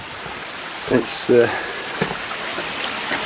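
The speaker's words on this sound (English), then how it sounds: "Now we're approaching the lovely small waterfall, the one I climbed as a kid." A small waterfall in Roundhay Park, Leeds, gives a steady rushing hiss that runs throughout, while someone briefly speaks over it nearby.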